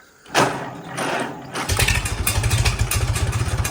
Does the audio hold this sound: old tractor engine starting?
yes